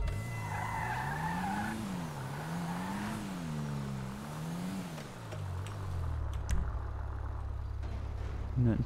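A car in the video game GTA Online skids hard with a long wailing tire squeal that rises and falls over a steady engine drone, loud and continuous, then settles into a lower revving hum.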